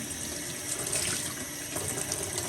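Clean water runs from a tap into a pot for rinsing cabbage, a brief steady rushing splash close by with no speech.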